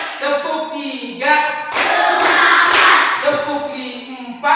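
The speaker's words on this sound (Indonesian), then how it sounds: "Tepuk 1, tepuk 2, tepuk 3" A group claps in a counted pattern during a classroom ice-breaking warm-up. A dense, loud spell of clapping sits between stretches where a voice speaks.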